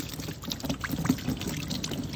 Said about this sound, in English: now we're gonna rinse the pieces off with water until